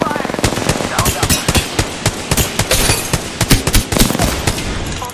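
Rapid automatic gunfire in the video game Apex Legends on Nintendo Switch, loud dense bursts of shots back to back over a continuous battle din with game voice callouts underneath.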